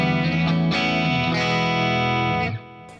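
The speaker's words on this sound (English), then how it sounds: "First, the deluxe reverb." An electric guitar plays through a Deluxe Reverb amp model on an Axe-Fx III, with sustained, ringing chords that shift a few times before fading at the end.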